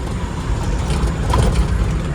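Busy road traffic with cars and trucks at a signal, a steady low engine rumble from nearby vehicles with a brief air-brake hiss partway through.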